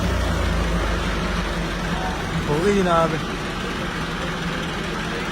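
A tractor on a Punjab maize farm idles with a steady low rumble at moderate distance, while someone speaks briefly over it.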